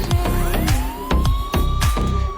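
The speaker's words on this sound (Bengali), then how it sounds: "এবার পুলিশের গাড়ি আসছে তাকে মারার জন্য।" A police car siren in a video game wails loudly and continuously, rising and falling over repeated rhythmic thumps.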